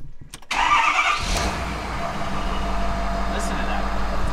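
A Ford F250 with a 6.7 Powerstroke diesel engine cranks briefly and catches, then settles into a steady, loud, close diesel idle rumble that continues to the end.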